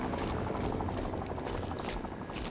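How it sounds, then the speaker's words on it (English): A helicopter flies nearby in the video game Fallout 3, its steady rotor drone and a thin high whine holding constant throughout with no speech. "got helicopters around."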